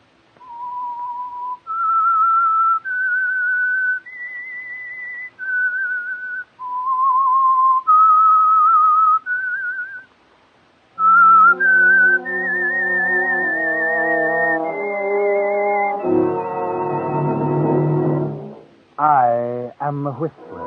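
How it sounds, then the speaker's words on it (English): A radio drama's signature whistled theme for The Whistler, sponsored by Signal Oil: a lone melodic whistle rising and falling in clear held notes, then joined by a louder orchestral swell near the end. "That whistle is your signal for the Signal Oil program"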